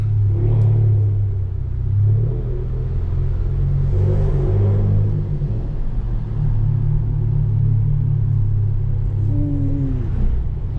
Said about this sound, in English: Bro, my car literally growls,